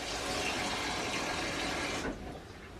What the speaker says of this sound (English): we're just going to fill that up with cold water